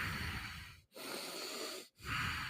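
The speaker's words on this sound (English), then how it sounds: "you can hear somebody breathing" Heavy, rasping breaths from someone nearby, caught in recorded footage: two long hissing exhalations with brief silent pauses between them, faint and close, with no talking.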